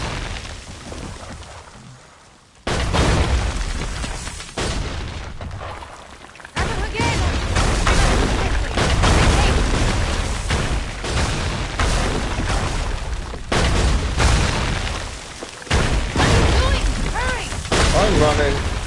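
Booming cannon fire and explosions in Assassin's Creed III Remastered, heavy blasts and rumbling bursts recurring through a loud battle scene, with someone talking over the action.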